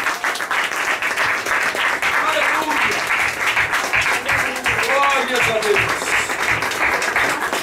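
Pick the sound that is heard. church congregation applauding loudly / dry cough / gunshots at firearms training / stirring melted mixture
church congregation applauding loudly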